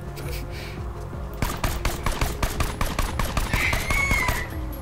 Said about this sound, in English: This explode on reload pistol I picked up is one of the fully automatic uh, spin barrel ones.